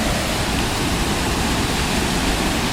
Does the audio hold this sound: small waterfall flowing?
yes